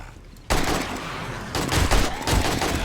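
AK rifle fire in the video game 7 Days to Die starts abruptly after a short quiet moment, then sustained loud automatic bursts follow in quick succession, with no talk.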